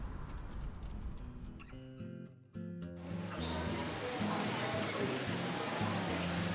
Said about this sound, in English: it was raining most of the time I was here